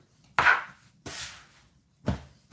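Knife chopping through cinnamon bun dough on a board, three firm separate strokes with short pauses between, close and clear with no talking.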